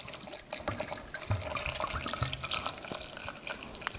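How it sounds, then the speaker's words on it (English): Red wine is poured over beef with garlic cloves for a peposo pepper stew, a steady splashing liquid pour running continuously for several seconds, close and fairly loud. "and then the red wine. And what you want to do is to literally pour in enough to cover the top"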